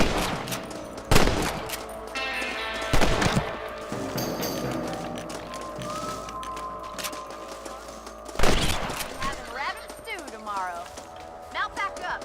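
Several loud rifle cracks spaced a few seconds apart while hunting rabbits in Red Dead Redemption, standing out close and sharp over steady Western game ambience and background music.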